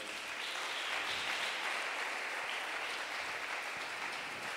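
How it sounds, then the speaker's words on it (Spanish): Church congregation clapping together, a continuous even roar of applause from many hands, somewhat distant and soft. "Dale un aplauso a Él."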